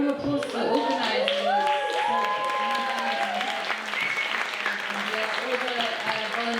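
An audience at a live performance event for Palestine claps in sustained applause for the group, with voices talking over the clapping throughout.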